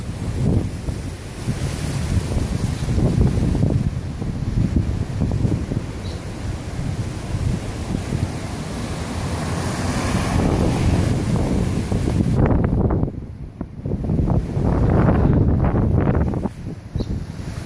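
Strong wind roars and buffets the microphone, with surf rumbling beneath it in Noumea during early tropical storm effects from Typhoon Pam; gusts rise and fall, briefly easing before building again.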